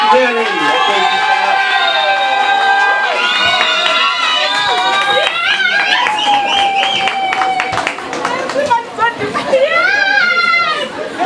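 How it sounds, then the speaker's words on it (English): An audience at a business gathering cheers and shouts for Mary, with loud excited voices, whoops and scattered clapping filling the room. "Let's give a big round of applause to Mary."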